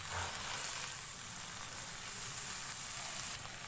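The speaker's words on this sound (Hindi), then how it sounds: "चिकन को 2 से 3 मिनट लहसुन अदरक के साथ फ्राई करेंगे।" Chicken pieces fry with garlic and ginger in a pan over low heat, producing a continuous close sizzle with faint crackle throughout, no voices.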